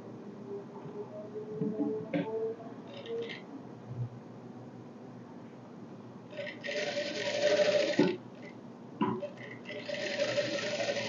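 A sewing machine stitches a dart on a blouse in short bursts of fast mechanical whirring and clicking, with pauses between runs and faint talk in the background.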